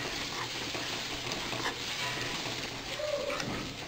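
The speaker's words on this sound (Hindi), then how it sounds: "धनिया पाउडर डाल लेंगे, मिर्च पाउडर, हल्दी पाउडर, हल्का सा भून लेंगे इसको" Onion paste fries with coriander, chili and turmeric powder in a pan, giving a steady moderate sizzle and crackle with faint stirring movement, fairly close.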